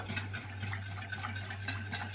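Quiet scraping and swishing of a utensil stirring thick cake batter in a pot, soft and continuous with a low electrical hum underneath.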